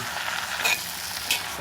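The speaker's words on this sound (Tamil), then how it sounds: "அப்படியே வதங்கிறது பாருங்கள்" Drumstick greens sauté with onions in a pan, giving a soft, steady sizzle with a couple of faint stirring clicks.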